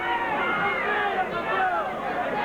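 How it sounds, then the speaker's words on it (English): A boxing crowd roars steadily behind a ringside commentator, cheering on challenger Kosie Smith late in a title fight against Victor Galindez, the broad crowd noise continuous and fairly loud under his voice. "The crowd urging Kosie on."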